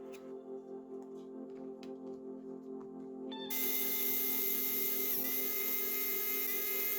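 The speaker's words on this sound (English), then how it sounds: "And then all the screws back in." A small electric screwdriver whines steadily while driving screws back into the housing of an RG35XX SP handheld game console, close and continuous, rising in pitch and loudness midway.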